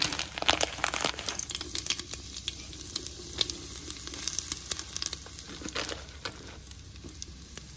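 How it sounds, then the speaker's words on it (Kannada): Dried fenugreek leaves frying in hot oil and Amul butter in a pan give a steady close sizzle with crackling pops and stirring scrapes, running without talk. "ಆ್ಯಂಡ್ ಇವಾಗ ಎಣ್ಣೆ ಹಾಗೂ ಬಟರ್ ಎರಡೂ ಒಂದು ಸ್ವಲ್ಪ ಆದಮೇಲೆ ನಾವು ಇವಾಗ ಸ್ವಲ್ಪ ಕಸ್ತೂರಿ ಮೆಥಿನ ಹಾಕೋಣ."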